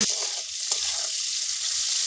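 Prawns and onion fry in a pan with a bright, continuous sizzle and a few soft stirring knocks, close and fairly loud.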